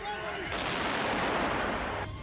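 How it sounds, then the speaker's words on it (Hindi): Explosions ring out during violent street protests in Athens, heard as a sudden harsh burst of booming, crackling noise that lasts about a second and a half before cutting off, over a constant background din. "एथेंस की सड़कों पर धमाके की ऐसी आवाज सुनी गई जैसे ये कोई युद्ध का मैदान हो"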